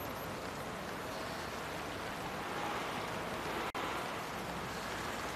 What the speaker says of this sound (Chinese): 都下雨了。